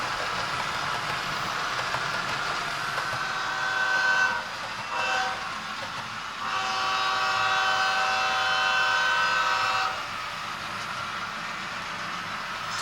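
A model Canadian Pacific potash freight train rumbles steadily along a layout with a low mechanical drone, its long horn sounding in sustained chords partway through, fairly quiet and without voices.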